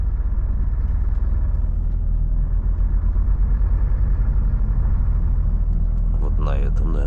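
A Volvo FH 540 truck's diesel engine rumbles steadily up close during a turn at an intersection, a low continuous drone with a voice talking over it near the end.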